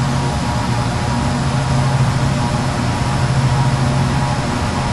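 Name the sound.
Jetstream 41 turboprop engines at takeoff power, Prepar3D video game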